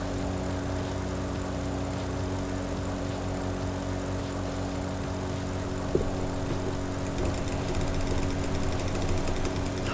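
Steady propeller engine drone of a heavy fixed-wing aircraft on its takeoff run with 80% fuel in the Il-2 Cliffs of Dover flight simulator game, a continuous loud hum with a brief click midway and rising hiss near the end.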